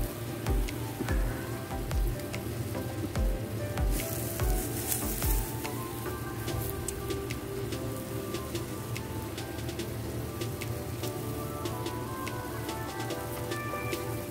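A burger patty seasoned with Greek seasoning, soy sauce and onion powder sizzles steadily as it fries in a pan, a constant close crackle with occasional soft knocks and bird calls faintly behind.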